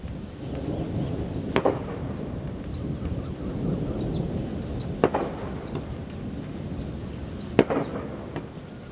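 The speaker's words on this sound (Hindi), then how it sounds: "ये पटाखे छोड़े जा रहे हैं।" Firecrackers go off at a rural mountain-village wedding in Uttarakhand during rain, three sharp cracks spaced a few seconds apart over a steady rumbling wash of rainfall.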